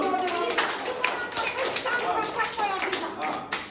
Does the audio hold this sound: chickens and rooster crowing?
no